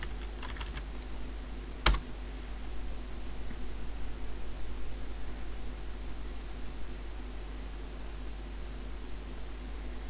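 Keys tap on a computer keyboard as a command is typed: a faint, quick flutter of keystrokes at the start, one sharp clack, then quiet hiss.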